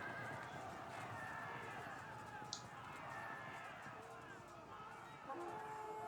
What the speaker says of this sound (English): he prevented it with the light horse charge